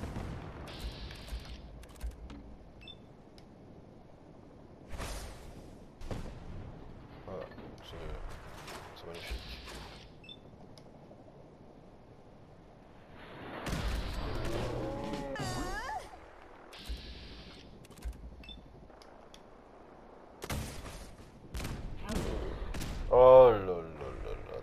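Modded mini rocket launcher in Fallout 4 firing ghost rocket rounds, with several sharp bursts and whooshing launches separated by quiet gaps, a mechanical clatter in between and a voice talking intermittently.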